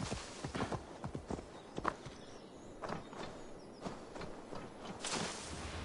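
Horse hooves clip-clop in a quick, uneven rhythm at close range in the video game Assassin's Creed Valhalla, with no voices.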